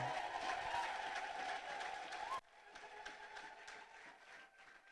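A church congregation ululates and claps, with a wavering high trill over dense applause that drops abruptly midway to a quieter, thinner clapping.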